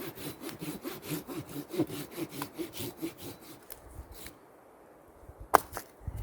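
A hand saw cuts through wood in quick, even back-and-forth rasping strokes, close and clear, then stops, leaving near silence broken by a few scraping sounds.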